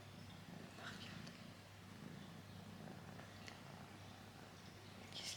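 Soft, steady purring from a cat named Mimi as she is cuddled, a continuous low rumble running close throughout with faint rustling and a few brief higher noises over it.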